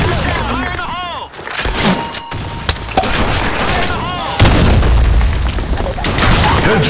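Video game battle in which a grenade explosion booms out among gunfire, a heavy low blast about halfway through, while voices call out over the din.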